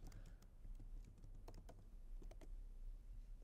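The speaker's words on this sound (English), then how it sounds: "you can type in your own custom message" Someone types on a computer keyboard, giving a quiet, steady run of close key clicks with slight irregular rhythm over a low background hum.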